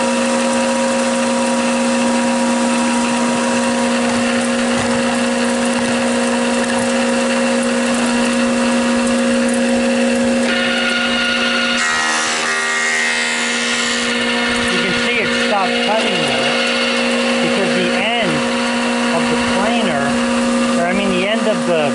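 A thickness planer runs red oak lumber through its cutter, a loud steady mechanical whine and drone with a rougher cutting passage midway, close and continuous.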